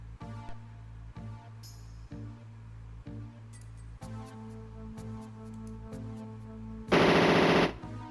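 Gatling gun fire in the MS-DOS mecha game Power Dolls: a rapid, even chain of retro synthesized shots repeating over a low electronic hum, ending in a loud burst of harsh static-like noise.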